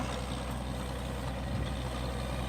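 A high-pressure borewell drilling rig truck runs steadily, its heavy engine giving a constant, loud low rumble with a dense noise wash that stays unbroken from start to finish.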